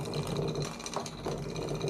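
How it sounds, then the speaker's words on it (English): Defective Simagic P-HPR Neo haptic pedal with something loose clunking inside, a faint rattling mechanical buzz with irregular knocks, heard close with no talking. "Something is clunking around inside of it."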